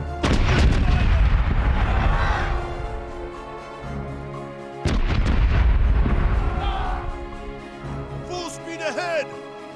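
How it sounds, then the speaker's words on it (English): Port side cannons on a ship in a video game fire in two heavy booming volleys a few seconds apart, each rolling out into a long rumble, with a voice speaking over the end. "Port side is ready to fire!"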